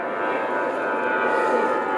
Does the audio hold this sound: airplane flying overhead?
yes